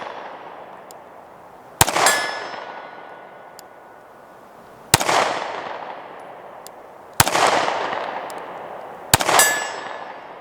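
Four sharp gunshots from a super short barreled SCCY CPX2 compact 9mm pistol ring out at irregular intervals, each loud crack trailing off in a long echoing decay, fired at a target 60 yards away with no talking.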